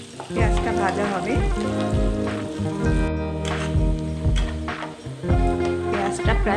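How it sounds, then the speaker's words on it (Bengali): Close, steady sizzling of onions frying in oil, with stirring clatter in the pan and a constant humming background throughout the several seconds. "পেঁয়াজটা ভাজা হবে"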